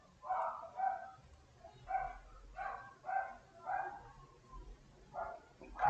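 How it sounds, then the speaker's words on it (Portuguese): A dog barks in a series of moderate, evenly spaced barks, about eight in under six seconds, standing alone without talk. "Ô cachorro desgraçado"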